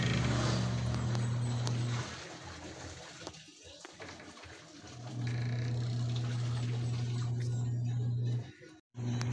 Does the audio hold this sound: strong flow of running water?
yes